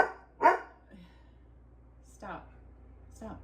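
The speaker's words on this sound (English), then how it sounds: "I know my dog's going to bark" A pet dog barks indoors: one sharp, loud bark, then two softer barks a couple of seconds apart.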